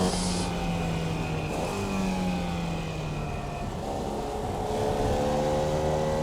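A 70-year-old Volkswagen engine in a Formula Vee screams at full revs in an iRacing sim race, a steady loud drone with harmonic whine that dips briefly and climbs again as the car runs flat out.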